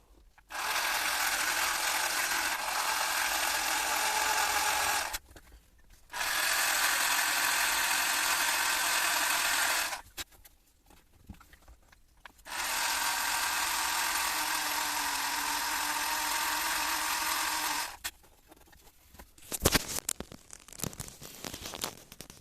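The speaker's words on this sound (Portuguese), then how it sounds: "Vai-se furando pouco a pouco, verificando se está centrado" A power drill whirs loudly in three long bursts of several seconds each, drilling out a broken stud on a 1982 Datsun Urvan SD23 engine's thermostat cover, separated by short pauses, followed by scattered clicks and handling noises.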